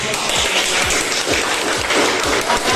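A small group of students in a classroom claps steadily for a few seconds, the claps dense and moderately loud with no voices standing out.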